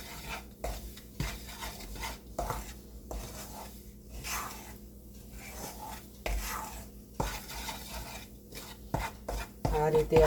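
Millet flour roasting in a pan over a low gas flame for sukhadi, stirred and scraped continuously, giving a quiet, irregular rhythm of dry scrapes and soft knocks close by.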